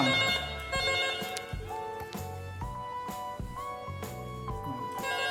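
An electronic ring tone warbles repeatedly on an analog PABX telephone extension in a steady melodic pattern, clear and fairly close, with no one talking.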